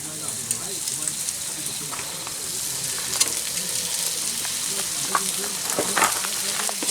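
Fish frying in a pan outdoors on a fishing trip, with a continuous crackling sizzle like light rain. Faint voices murmur underneath.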